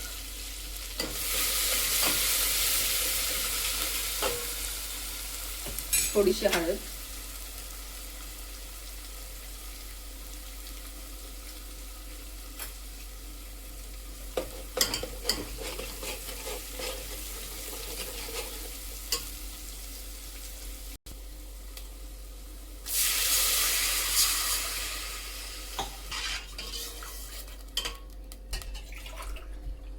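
Spice paste and a pinch of turmeric going into hot tempering oil for a shengole dish, with loud bursts of sizzling at the start and again near the end, quieter frying and stirring clicks between, and a brief spoken word.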